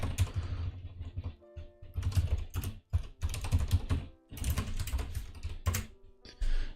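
Rapid typing on a computer keyboard while coding in the Vim editor, caps lock accidentally on, with dense clattering bursts of keystrokes broken by short pauses, close and fairly loud with no talking.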